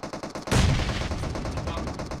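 A grenade blast in a competitive online shooter match lands as a sudden loud boom about halfway through, with rumbling gunfire-like crackle trailing behind it and faint game noise before.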